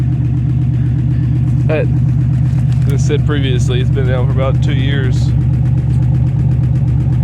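An old car that sat unused for about two years idles steadily at close range, a low, even engine drone running throughout while someone talks over it.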